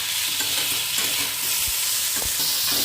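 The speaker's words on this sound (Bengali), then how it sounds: "এরপর পেঁয়াজটিকে অল্প ভেজে নেওয়া হচ্ছে।" Sliced onion sizzles steadily in hot oil after salt is added, while a spatula stirs and scrapes the pan. The low knocks of stirring come at irregular intervals over a constant, fairly loud frying hiss.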